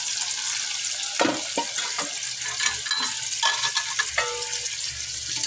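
Cabbage and other vegetables sauté in a hot pan, with a steady sizzle and frying hiss broken by repeated clatters and scrapes of stirring, all close by and with no talk.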